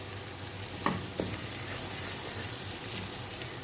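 Finely chopped onion fries in a pan for a macaroni white sauce, giving a steady close sizzle with a couple of brief clinks from stirring.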